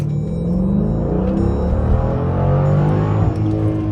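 A Dodge SRT with a mid muffler delete accelerates in a low gear, its engine a loud, close, steady rumble with rising harmonics across the run.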